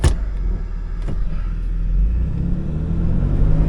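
A 1998 Toyota 4Runner with the 3.4L V6 driving in four-wheel-drive low makes a steady, close engine rumble that builds gradually, with a sharp knock at the start and another about a second in.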